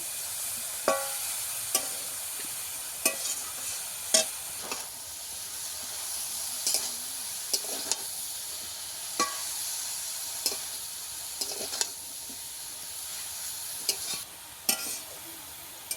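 Chikni greens being sautéed in a pan for a khesari dal dish, with repeated sharp spatula scrapes and knocks at an irregular pace over a soft, low sizzle, close and without talk.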